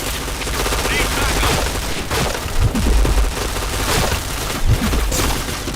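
Dense bursts of rapid gunfire with heavy booming impacts in a first-person shooter video game, continuous and loud throughout, with a few stronger thumps standing out.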